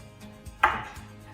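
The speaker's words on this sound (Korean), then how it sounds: "토마토 절반을 썰어주고" A knife cuts through half a tomato on a cutting board with a single crisp chop that lands solidly against the board, then the sound fades into quiet.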